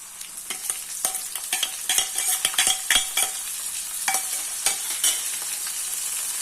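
Blended onion paste sizzles and spits in a hot pan while a utensil stirs it, with steady frying hiss and a run of sharper scraping strokes throughout, fairly close and with no talk.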